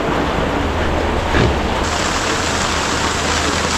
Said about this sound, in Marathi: पाऊस आहे का इकडे? भरपूर आहे.